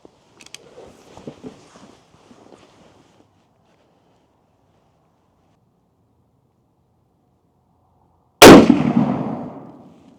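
A Ruger M77 Hawkeye Hunter in .358 Winchester fires one loud, sharp rifle shot outdoors on a chilly range. The crack rings out and decays after a long stretch of near silence that opens with faint, distant talk.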